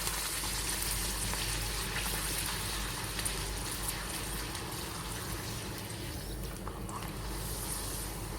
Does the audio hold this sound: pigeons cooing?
no